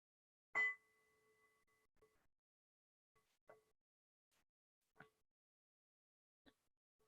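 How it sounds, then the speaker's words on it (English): A meditation bell is struck before a loving-kindness chant in a practice group, one clear ringing strike that fades slowly, then several fainter taps spaced a second or two apart in a quiet room. "I'll ring the bell and we can begin"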